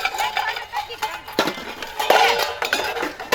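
Metal pots and utensils clatter and clink repeatedly during a heated domestic quarrel, close and busy, with jangling strikes scattered throughout.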